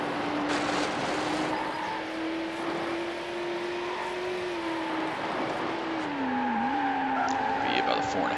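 Tires screech in a long sustained skid under a steady race-car engine drone in the racing video game Need For Speed Hot Pursuit 2, the squeal bending in pitch near the end.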